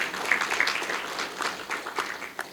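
A crowd applauds at the launch of a charity foundation, fairly faint scattered clapping from many hands with uneven peaks, heard at some distance.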